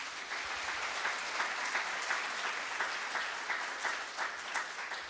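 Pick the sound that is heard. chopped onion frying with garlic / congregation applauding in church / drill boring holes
congregation applauding in church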